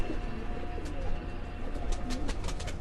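White pigeons coo softly on a rooftop in Gujarat, their low throaty calls repeating steadily over a constant background hum.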